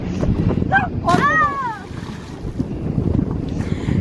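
Wind buffets the microphone on a boat at sea off Corsica in summer, a loud, gusty, continuous rumble with splashing water, while voices talk and shout briefly over it.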